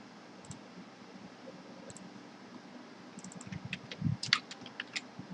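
Computer keys click sparsely at first, then rattle in a quick close burst of typing before easing off; no voices.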